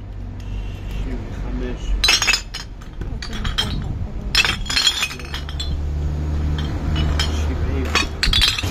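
Glass bottles clink and knock together as they are counted for sale at a bottle-collecting scrap buyer, with repeated sharp bright chinks in irregular bursts over a low rumbling background.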